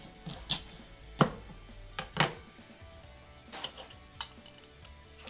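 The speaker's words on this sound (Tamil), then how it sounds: "இப்போ நம்ம பீட்ரூட்டையும் வந்து இதே மாதிரி கட் பண்ணி தோல் சீவிட்டு கட் பண்ணி போட்டுடலாம்" A knife chops and peels beetroot on a board in a home kitchen, giving sharp scattered knocks and scraping cuts with pauses between them, close and fairly quiet, with no talking.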